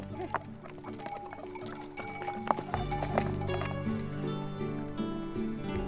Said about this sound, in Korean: 물건을 싣고 다니는 일이 익숙한 당나귀에게도 산행은 쉽지 않습니다.